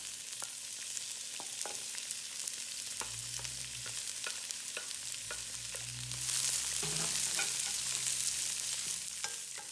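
Celery and carrot stir-frying in hot oil with garlic in a wok, a steady close sizzle broken by scraping spatula strokes that knock against the pan, with the hiss swelling louder in the last few seconds.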